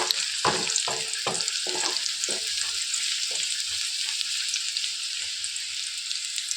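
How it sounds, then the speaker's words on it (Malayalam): Onions sizzle steadily in a hot pan, with several scraping stirs early on, then a continuous crackling hiss. "നമുക്ക് ഈ ഉള്ളി മൂപ്പിച്ചെടുക്കട്ടെ"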